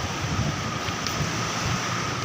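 Waves wash steadily onto a stormy seashore in a continuous broadband roar, with strong wind buffeting the microphone throughout and no voices.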